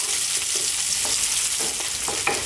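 Onion fries in a hot pan for mushroom fried rice, a loud steady sizzle close up, broken by short scraping strokes of stirring, with no one talking.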